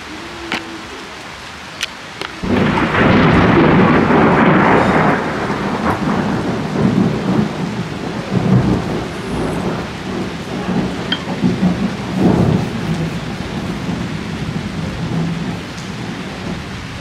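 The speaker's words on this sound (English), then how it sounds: "because this rain, even the thunder, it's not giving" Heavy rain pours down outdoors with rolling thunder, a loud steady downpour starting after a quiet moment and continuing with rumbling swells throughout.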